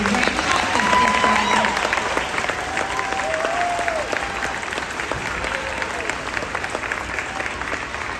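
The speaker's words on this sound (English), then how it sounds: "let's give them a big round of applause" An elementary school fifth grade graduation audience in Hendersonville, Tennessee applauds the graduating students with loud, sustained clapping from a large crowd, with faint voices and a few whistles or cheers mixed in.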